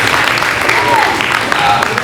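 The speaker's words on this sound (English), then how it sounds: "let's give a big hand of applause to your parents." Steady applause from a graduation ceremony audience fills the hall, with a broad wash of clapping and a few faint voices mixed in.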